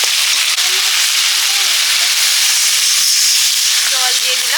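Water poured into a hot cooking pan hisses and sizzles loudly and steadily at close range, with faint clinks near the end.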